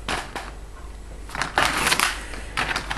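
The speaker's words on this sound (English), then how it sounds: "I'm just turning the instructions the other way." Sheets of paper instructions for a Transformers Generations Cybertronian Optimus Prime figure are turned over, giving close, soft crinkling and rustling bursts at irregular moments with no talking.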